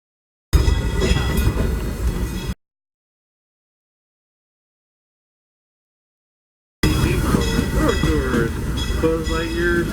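The Disneyland Railroad steam train with the Ward Kimball No. 5 locomotive rolls along with a rumbling, clattering ride noise and a voice talking over it, broken by a long stretch of silence in the middle.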